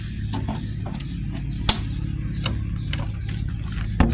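A homemade automatic 108-egg duck incubator runs under test, giving a steady low mechanical hum with irregular soft ticks and clicks and a couple of sharper knocks, heard up close.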